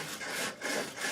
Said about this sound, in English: the piece of wood, and I put it in the vise, and now I must cut it